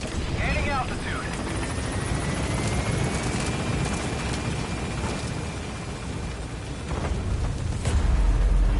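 In the Metal Gear Solid V game, a helicopter's rotor roars loud and continuous as it climbs, with a rising whine and brief bursts, while voices talk over the din.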